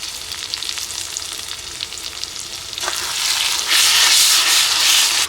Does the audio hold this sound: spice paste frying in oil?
yes